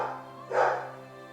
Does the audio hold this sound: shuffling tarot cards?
no